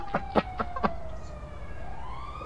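An ambulance siren from a video game wails in the background with a drawn-out, rising tone, while a few short percussive knocks sound near the start.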